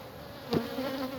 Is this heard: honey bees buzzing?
yes